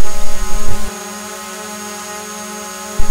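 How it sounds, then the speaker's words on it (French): A drone flies with a steady, loud, high whine made of layered tonal buzzing, close and continuous throughout, with a low rumble at the start and a brief bump at the end. "Drone."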